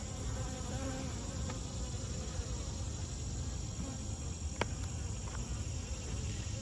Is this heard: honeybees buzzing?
yes